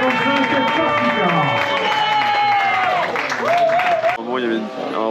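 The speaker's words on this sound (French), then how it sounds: "Applaudissements s'il vous plaît pour Adrien Finisher, 1555 Corsica." A crowd at the finish of the BikingMan 555 Corsica gravel cycling race in 2025 applauds and cheers steadily for a finishing rider, loud and close, with voices calling out over the clapping.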